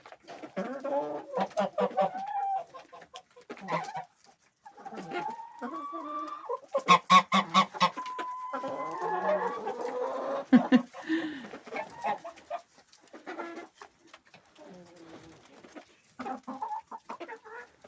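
Chickens and other farm poultry cluck busily while pecking at scattered waste wheat during winter feeding, a close, lively jumble of overlapping calls in irregular bursts.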